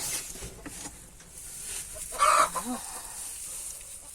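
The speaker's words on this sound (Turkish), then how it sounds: "Güzel tavuklarım durun." Chickens cluck close by in a coop in a short burst of clucks over a quiet farmyard background, with one louder squawk near the middle.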